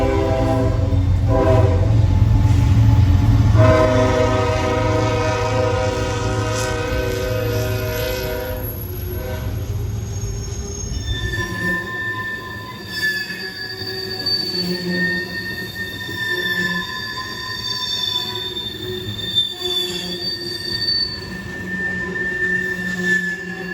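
A train rumbles past in downtown Plant City with loud low rolling noise, then high sustained wheel squeals ring out and linger as it moves along the rails.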